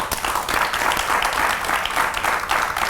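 A studio audience on a Malayalam TV talk show breaks into sustained, dense applause, many hands clapping steadily and loudly for the full stretch with no talk over it.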